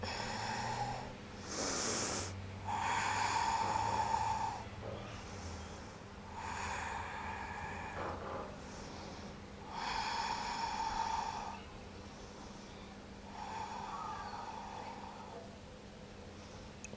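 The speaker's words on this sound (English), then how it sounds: "A few deep breaths." Slow, deep breaths during a held yoga hip stretch, each long inhale and exhale audible up close at a steady, unhurried rhythm, with short quiet pauses between them and no talking.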